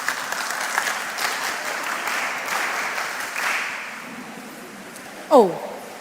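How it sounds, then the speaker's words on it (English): An audience at a mentorship session breaks into steady applause, a dense wash of clapping that fades toward the end, followed by one sharp whip-like crack. "Give yourselves a round of applause."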